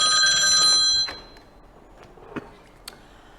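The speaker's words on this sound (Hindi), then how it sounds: "फोन उठाइए।" A telephone bell rings loud and near in one short burst lasting about a second, then stops, leaving faint clicks and small knocks in a quiet room.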